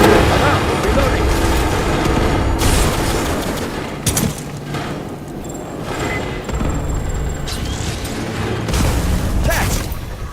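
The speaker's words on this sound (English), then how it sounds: "Grenade out!" A grenade blast in the sci-fi shooter Aliens: Fireteam Elite, part of dense, loud combat: booming explosions and rapid gunfire stacked together with no letup.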